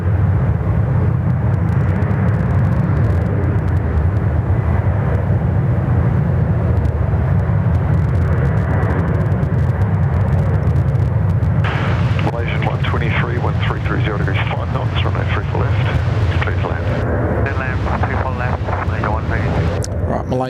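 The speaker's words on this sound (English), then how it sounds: "Qantas 330 rolling on runway 34 left." A Qantas airliner rolls for takeoff on runway 34 left at Sydney Airport, a continuous heavy roar heard from a distance with wind buffeting, the engine tone shifting partway through.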